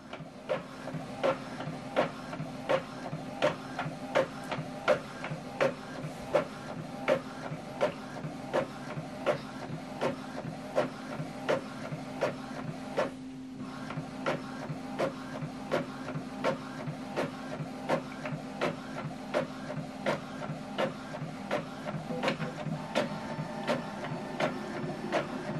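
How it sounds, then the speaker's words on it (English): An Epson printer copies a document double-sided in colour, a steady rhythmic whirring and clicking of the paper feed and print head that runs on for many seconds, with a short pause partway through as the page feeds back inside. "So it's copying this document now, colored, double-sided."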